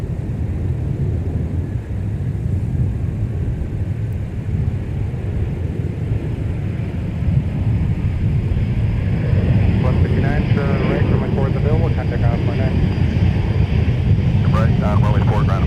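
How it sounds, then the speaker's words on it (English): A Delta Boeing 717-200 airliner arriving at Minneapolis–Saint Paul airport, a steady loud jet engine roar that swells midway, while people talk over the noise throughout. "Now arriving from Kansas City, Missouri, Delta 1159 with a Boeing"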